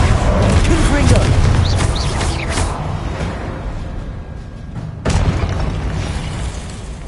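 A Confringo fire-blast spell explodes in the Hogwarts Legacy video game, loud booming bursts with rumble rolling through the clip and a fresh blast partway through, under dense battle noise.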